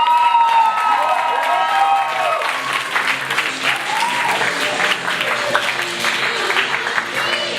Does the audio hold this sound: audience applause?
yes